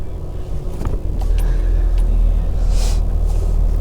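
A truck towing a trailer rumbles steadily at low speed while its brakes are tested, with a brief hiss partway through over the constant engine drone.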